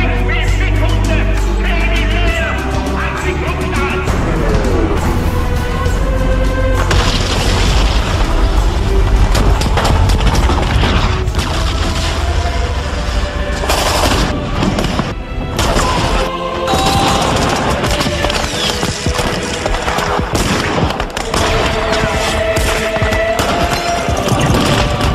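Battle effects fill the scene: loud booming explosions, crashes and bursts of gunfire and machine-gun fire roll over one another continuously, dense and close, with heavy low rumble early on and no talk.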